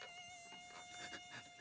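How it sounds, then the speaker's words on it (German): A cartoon mosquito whines with a thin, steady, high-pitched buzz that hovers close and continuous, faintly rising and falling in loudness, with no talking. "Das ist wirklich eine Mücke, Bert."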